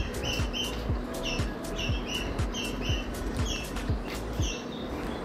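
Birds chirp at a forest resort in Dapoli, near a bamboo tree house: short, high, repeated calls come every half second or so over a steady, fairly loud background rush, with no voices.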